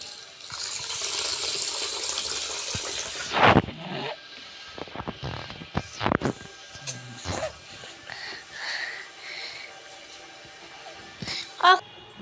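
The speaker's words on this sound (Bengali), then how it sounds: "একদম পরিষ্কার জল যতক্ষণ বেরোবে তখন আমরা ততক্ষণ অবধি ধুয়ে নেবো এই চালটাকে।" Rice for a vegetable pulao is rinsed under a running kitchen tap, with a steady rush of water for a few seconds. Clatters, splashes and swishing of grains in a pot follow after the flow stops.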